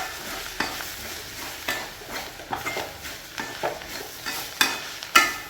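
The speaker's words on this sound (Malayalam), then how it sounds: "മഞ്ഞൾപ്പൊടി, അല്പം കുരുമുളകും കൂടെ ചേർത്ത് നമുക്കൊന്ന് വൃത്തിയായിട്ട് ഇളക്കി കൊടുക്കാം." A spoon stirs onions with turmeric and pepper in a pan for a Kerala chicken curry, with repeated scraping strokes over a steady low sizzle and the occasional sharper clack against the metal.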